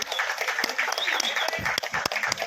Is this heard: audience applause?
yes